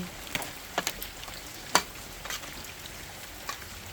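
Beef or buffalo curry with herbs being stirred in a pot, giving a soft wet background sizzle with several sharp scrapes and clinks of the utensil against the pot, heard alone without talk.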